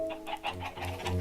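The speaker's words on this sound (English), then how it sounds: "Lots and lots of chickens." Rapid bursts of chicken clucking in the game Minecraft repeat over steady background music, with a sustained tone underneath and no voices.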